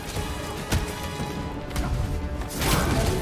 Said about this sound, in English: Sounds like a lot of flark and gunfire.